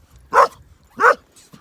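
A Kangal mix dog gives two loud, close barks spaced about half a second apart, followed by a faint short yip.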